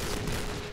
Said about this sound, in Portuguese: Agora é 30 tiros, nenhuma kill.